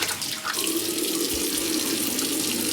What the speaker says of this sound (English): So the rest of the filtered water goes into the lathering bowl.